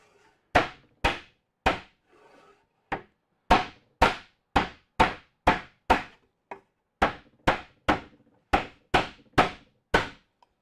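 A rubber mallet strikes wood again and again while assembling a dovetailed hanging wall unit, sharp close thuds in irregular bursts with short pauses and faint rustling between blows.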